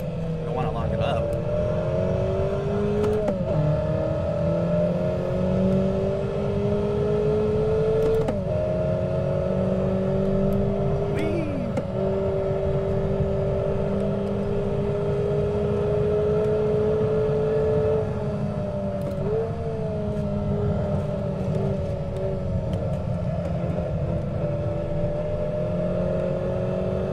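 New-generation Mazda Miata race car engine in a sim racing game, holding a steady droning note that rises and dips with repeated shifts and revs across a lap, with someone talking over it.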